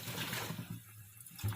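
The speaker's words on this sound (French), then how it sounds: "Je rince. Je mets de l'eau dedans plusieurs fois." Lukewarm tap water runs into a reusable food storage bag at a sink to rinse it, a soft steady low trickle with brief splashy surges, close by and alone.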